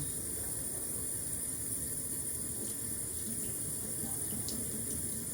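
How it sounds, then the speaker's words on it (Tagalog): A tap runs continuously into a sink, fresh water left flowing for cats to drink; a steady, even hiss and splash, close by, with no speech. "Mas gusto nila yung bagong bukas na tubig sa gripo."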